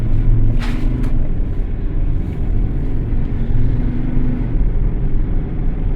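Steady low road rumble of cars going by on a US highway, heard from a Ford Transit van, loud and continuous, with a couple of brief higher swishes early on.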